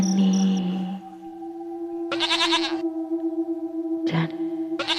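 A goat bleats in repeated wavering cries against a steady tonal drone, with bursts of bright insect-like chirring at intervals and no talk.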